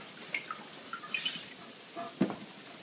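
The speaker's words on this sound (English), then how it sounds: "now we're going to pour our oil wax mixture into a bowl" A warm mixture of jojoba oil and beeswax is poured into a bowl, giving a few faint, scattered drips and soft liquid plops in a quiet room.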